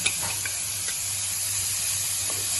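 Shredded cabbage for momos sautéing in a pan, a steady close hiss with a few faint scrapes and clicks, alone without voices.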